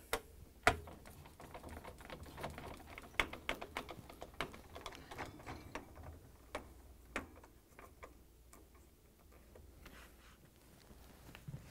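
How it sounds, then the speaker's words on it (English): A 1/4-inch nut driver tightens screws on a Whirlpool, KitchenAid or Maytag refrigerator during an evaporator motor replacement, making quiet, irregular metallic clicks and ticks close by, with no talking. "now we're going to use the 1/4-inch nut driver"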